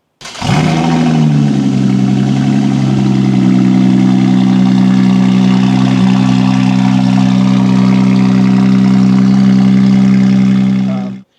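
A 2024 Lotus Emira fitted with a Valvetronic Designs titanium exhaust starts with a sharp bark, then settles into a loud, steady idle with a deep drone. It holds close and alone for about ten seconds before cutting off.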